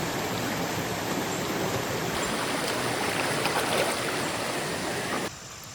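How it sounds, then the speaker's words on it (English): A small forest stream flows in a steady, soft rushing wash, close and continuous, at a bushcraft camp in humid weather, ending abruptly as the sound cuts off. "Time to go get a little bit of water from the stream."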